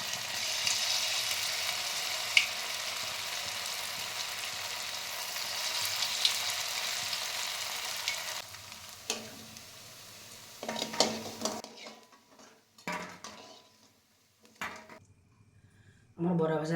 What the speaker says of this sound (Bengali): তেল গরম হয়ে গেছে, আমি কড়াইতে বড়াগুলো ছেড়ে দিচ্ছি।